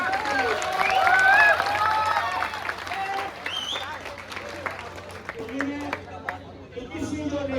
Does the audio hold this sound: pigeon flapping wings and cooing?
no